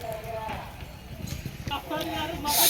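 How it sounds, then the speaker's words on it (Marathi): Bull hooves clatter in a quick running rhythm at a bullock-cart race in Kalamundi, amid a noisy crowd with people talking and shouting over the pounding steps. "इथून बैल येतो बघा"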